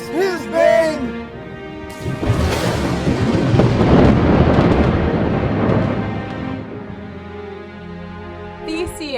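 A long, heavy thunder crack used as a stage effect in a gospel retelling of Oedipus at Colonus. It swells into a loud, rolling rumble over several seconds, then fades, with singing voices at the start and end.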